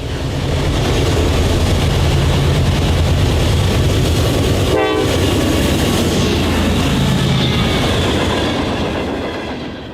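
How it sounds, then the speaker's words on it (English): A train passes the stone Michigan Central Railroad Depot at Grass Lake in winter snow. The close rumble and clatter stays loud throughout, with a brief horn-like tonal burst midway. "we recorded the train passing the Stone Michigan Central Railroad Depot"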